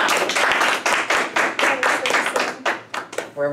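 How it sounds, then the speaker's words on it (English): Applause at a school talent show for the winners, a small group clapping in uneven bursts at close range, briefly ending as a voice begins. "And now a round of applause for our guests."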